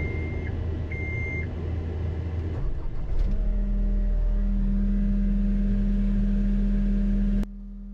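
A skid steer's engine drones loudly inside the closed cab, a heavy low rumble with a steady hum that rises in pitch partway through, plus a few short electronic beeps early on, then cuts to a lower level near the end.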